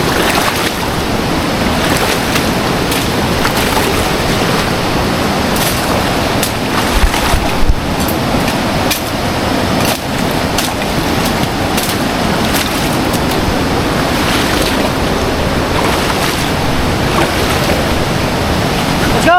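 A strong river current rushes past in a loud, unbroken roar of churning water, with gusts of wind buffeting the microphone now and then.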